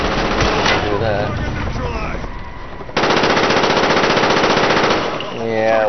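Automatic gunfire from Call of Duty: Black Ops, loud and continuous with rapid bursts across the whole stretch and a brief shift partway through.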